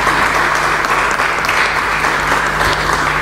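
Loud, sustained crowd applause for the folk group Molinos del Viento at a cueca event, steady dense clapping with no talk over it.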